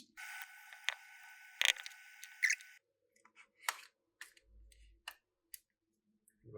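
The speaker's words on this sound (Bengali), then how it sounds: "এই দুইটা স্ক্রু খুলতে হবে।" Two screws being unscrewed from a hair trimmer that will not turn on, heard as faint close-up clicks and small ratcheting ticks in a quiet room, with no talking.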